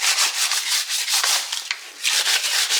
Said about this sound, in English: Go through and scuff this whole thing up